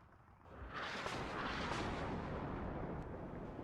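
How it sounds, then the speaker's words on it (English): Artillery lands in the WARNO strategy game as a sustained, loud rumbling roar of blasts that swells after a brief quiet start and holds steady, with no voices over it. "As the artillery is coming in once more"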